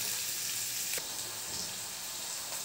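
Turmeric and spices frying in hot oil for mango pachadi, a soft, steady sizzle with faint crackle heard alone and fairly quiet.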